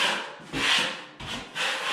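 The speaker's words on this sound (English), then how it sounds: "Show you the other method, which is just to scrape it off." A drywall knife scraping excess joint compound off a drywall joint makes three long, gritty strokes, close up and steady, with short pauses between passes and no talking.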